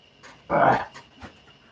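A dog lets out one loud, sharp bark close by, with fainter short yips and huffs before and after it, against quiet background hum and no talking.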